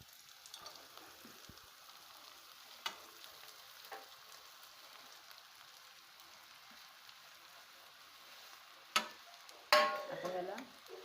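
Potato pieces with sabudana are sautéed in a pan for sabudana khichdi, making a faint soft sizzle with light ticks that gives way near the end to a couple of louder spoon-on-pan clatters.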